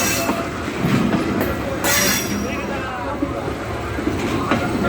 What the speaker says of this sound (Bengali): এই মাত্র আরেকটা ট্রেন চলে আসলো